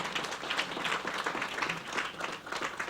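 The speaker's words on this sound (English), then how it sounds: "A round of applause for her," Crowd at a university commencement ceremony applauding an honoree, a continuous, fairly quiet patter of many hands clapping without pause.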